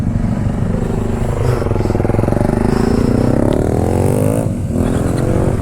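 Motorcycle climbing a hill road in low first or second gear near Purulia, its engine droning steadily and close with a strained, continuous rumble and no speech.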